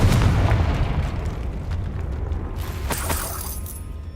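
A Confringo fire spell bursts in Hogwarts Legacy with a loud, rumbling boom that fades into a sustained roar, followed by a second, brighter crackling burst near the end.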